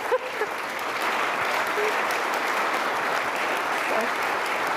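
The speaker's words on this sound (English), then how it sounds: "Please now join me in a round of applause for our panel" Steady applause from the audience at the Munich Security Conference 2022 for a panel, dense and sustained, filling the hall at an even level throughout.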